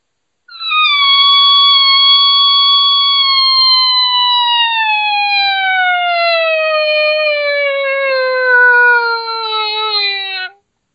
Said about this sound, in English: So this would be the complete test, looking for dead spots in the call.